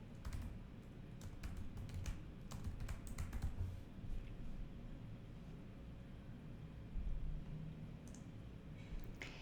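Computer keyboard typing while text is entered in a WordPress page editor: quiet, scattered key clicks and short bursts at a low level over a steady room hum, with no voices.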